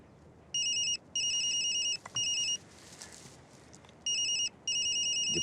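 A mobile phone ringtone trills loudly in repeated electronic bursts with short gaps, ringing on and off throughout against a quiet room.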